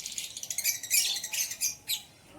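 Lovebirds in a breeding colony chirp in quick, bright repeated bursts, fairly close and steady, with a brief pause before a final flurry.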